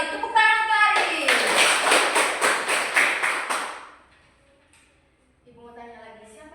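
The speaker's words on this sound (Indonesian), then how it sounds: "Tepuk tangan untuk Aris." A classroom of children claps for a fellow student, a burst of rhythmic, evenly spaced claps lasting about three seconds before fading, with young voices speaking briefly before and after.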